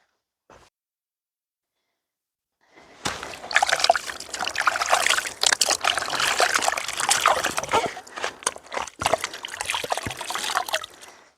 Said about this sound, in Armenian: ահա ջրեցի ամբողջը